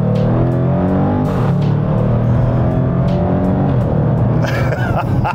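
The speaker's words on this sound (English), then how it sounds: "listen to the downshifts, the pops, the crackles." Loud, close exhaust note from a Mansory Pugnator SUV, with a rumbling engine broken by repeated sharp pops and crackles that burst out every second or so on the gear changes.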